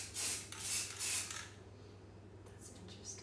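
Spray paint being rubbed across a dance studio mirror by hand, a close, fairly loud rasping scrub in three quick strokes, then a quieter stretch with a couple of lighter brushing passes over a low steady hum.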